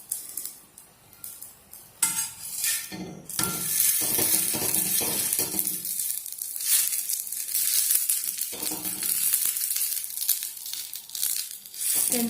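Homemade parotta sizzling and frying in a pan over a low flame, with steady crackling and occasional scraping and flipping noises close by, no talking.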